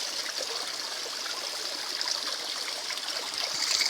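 Thin flow of water running down the rocks of the small Cachoeira da Serrinha waterfall in Carmo do Cajuru, a continuous near rushing trickle that swells slightly toward the end, with no voices.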